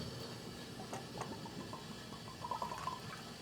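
Squirt soda poured into a glass gives a steady liquid hiss and fizz, with brief splashy pulses and a bubbling trickle near the end, close and fairly quiet.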